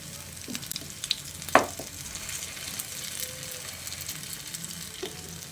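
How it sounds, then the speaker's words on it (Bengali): Soybean kebabs fry in shallow oil over low to medium heat, a steady soft sizzle with occasional sharper pops and light scrapes as the pieces are turned, close and fairly quiet with no talking. "কাবাবের 4 সাইডটা উল্টে পাল্টে ভালো করে ভেজে নিতে হবে, যেন চারিদিকটা সমানভাবে ভাজা হয়ে যায়।"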